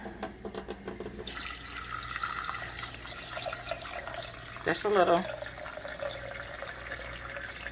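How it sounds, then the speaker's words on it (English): Water runs steadily into a pot from a tap, a continuous splashing flow, while a person speaks briefly over it. "Then I'm going to add some water."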